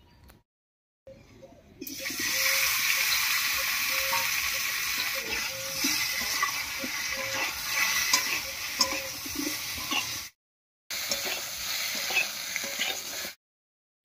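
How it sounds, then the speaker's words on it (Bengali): Pieces of taro fry in mustard oil left over from frying fish, a steady, close sizzling with stirring scrapes that runs on and breaks off twice into brief silence. "মাছ ভাজার এই তেলের মধ্যে কচুরমুখিটা একটু হালকা করে ভেজে নেব।"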